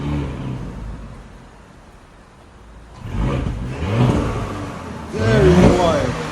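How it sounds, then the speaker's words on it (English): 2019 Audi SQ5 with a 3.0L V6 and stock exhaust revving, a quiet idle followed by two rising revs that climb and fall back, close and moderately loud. "2019 Audi SQ5. This is what it sounds like before,"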